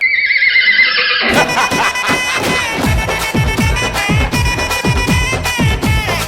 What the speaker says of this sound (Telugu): కాదు సిద్ధు, మన గుర్రానికి అస్వస్థత వచ్చింది, దానికి ఏం పెట్టినా తినట్లేదు.